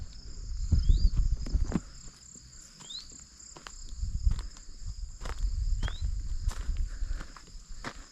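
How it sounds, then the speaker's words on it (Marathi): Crickets keep up a steady high drone in forest on the route to Pandav Gad near Wai, Satara, on a morning trek. Brief bird calls and a few footsteps break through nearby. "रातकिड्यांची किरकिर आवाज येतो असा"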